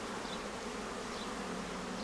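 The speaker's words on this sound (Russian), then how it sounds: "Большая масса пчел идет на выход и на вход." Honeybees stream in and out of a hive entrance, a thick, steady buzzing drone of many wings close by, continuous and unbroken with no voices.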